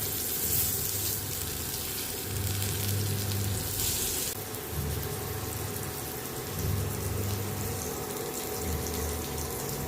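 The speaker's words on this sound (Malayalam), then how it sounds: "ദശക്കട്ടിയുള്ള മീനായതുകൊണ്ട് തന്നെ കുറച്ച് സമയം എടുക്കും നന്നായിട്ട് വറുത്ത് കിട്ടാനായിട്ട്." Thick-fleshed fish frying in oil in a kitchen, a continuous dense crackling sizzle like rain over a low, pulsing background hum, with no one speaking.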